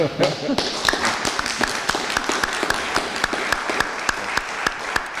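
Steady applause from a room of people at a city council budget hearing, crisp claps rattling on evenly for several seconds without a break.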